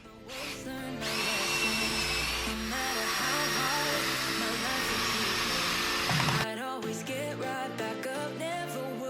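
A power drill drives toenail screws into a timber garage door frame, whirring steadily at close range for several seconds before stopping, followed by quieter clunks.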